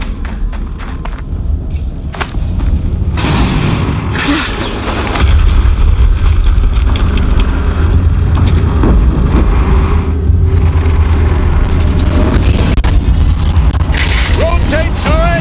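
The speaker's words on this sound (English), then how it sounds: "Another explosion." Explosion from the Horizon Zero Dawn video game, a deep rumbling boom that swells around five seconds and sustains loud under dense game noise with clanking mechanisms, rolling on steadily to the end.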